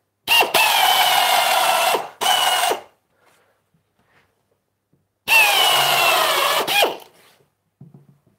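A power drill drives screws into wood in two close, loud bursts, each a sustained whirring run with brief stops, separated by a few seconds of near silence.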